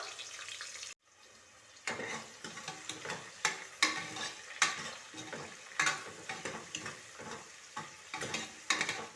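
Finely chopped shallots sauté in oil for a mutton kuzhambu, with a soft steady sizzle broken by rhythmic spatula scrapes and stirs, close up and without talk.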